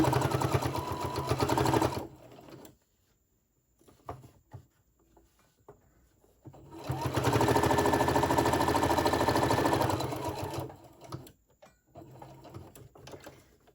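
A sewing machine stitches a homemade face mask in two long, steady runs separated by a quiet pause with small handling clicks, then sporadic light rattling; close, with no talk.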